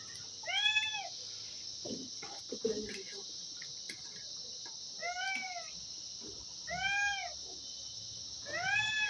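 A cat meows four times at spaced intervals, each a clear drawn-out cry, over a constant high chirring of crickets.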